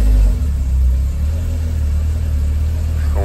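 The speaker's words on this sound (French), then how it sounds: "On est sur un son qui est différent. Évidemment, 4 cylindres. C'est peu bruyant, très performant aussi." A four-cylinder car engine runs steadily at idle, a close, even low hum with a faint rumble and no revving.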